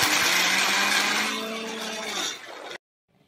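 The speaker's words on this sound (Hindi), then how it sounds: "अब हम इसको 10 से 15 सेकंड के लिए मिक्सर में ग्राइंड कर लेंगे।" Electric mixer grinder blending raw green mango, mint and salt into chutney, loud whirring grind close up that shifts pitch as it runs, then cuts off abruptly into near silence.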